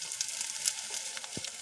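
Mustard seeds fry in a pan for dried fish thoran with a soft, continuous sizzle and scattered light pops, close and fairly quiet, with no voices.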